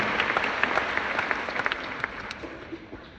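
Steady audience applause at a French-language conference talk, many hands clapping at once in a continuous wash with a few sharper nearby claps, fading slightly toward the end.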